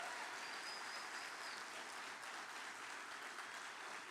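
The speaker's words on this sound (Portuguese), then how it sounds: "dar mais uma salva de palmas ao Senhor" A congregation at a 15th-anniversary church service claps in worship for the Lord in honour of a visiting pastor. The applause is soft and steady, a uniform wash that holds evenly and has no clear individual claps.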